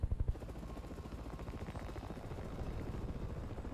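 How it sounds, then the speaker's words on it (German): A helicopter in the video game Resident Evil 6 passes with a loud, steady rhythmic rotor chop and a low engine drone that swells slightly toward the end, with no speech. "hier fliegt genau ein Helikopter lang"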